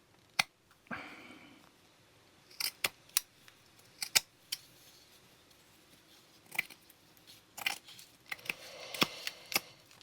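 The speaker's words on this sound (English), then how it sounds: "So what I want to do is cut this with plenty to spare." Scissors snipping through a glassine bag, a series of crisp, close clicks and short snips, spaced irregularly with soft rustling between cuts in a quiet room.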